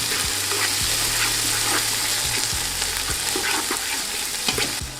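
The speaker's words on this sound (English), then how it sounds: "I'm just gonna add in our ginger and green chili and the tomato. Give that a mix." Ginger, green chili and tomato sizzle in a pot of one-pot chicken and rice as a spoon stirs through them, with steady frying crackle and repeated scraping strokes, close and fairly loud, with no talking.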